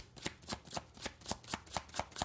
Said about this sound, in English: I'm going to do a little shuffle here and see if I can get some more advice